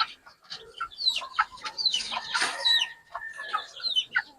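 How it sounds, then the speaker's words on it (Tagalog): Chickens on a small backyard mini farm cluck and squawk in overlapping bursts, several birds calling near and far with an occasional short crow-like call, steady and busy throughout with no talking. "Update ko na yung mga iba na mga manok ko."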